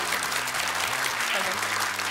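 A studio audience on a quiz show applauds in a continuous, moderately loud patter of clapping, with a low musical tone running beneath it.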